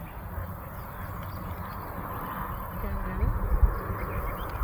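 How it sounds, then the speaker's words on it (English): Ducks swimming on water outdoors give a few faint quacks late in the clip. They sit beneath a steady wash of background noise and low rumble. "There's so much ducks."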